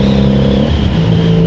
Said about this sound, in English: my exhaust is a little bit loud